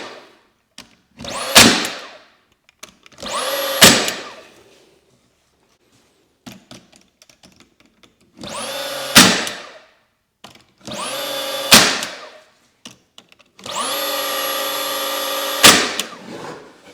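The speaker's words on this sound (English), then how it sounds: "we're just going to pop that in there with our brad nail gun" A brad nail gun drives 1.5 inch brads into 1/8 inch plywood, firing a sharp pneumatic crack six times at uneven intervals, each shot followed by a short hiss, with quiet gaps between them.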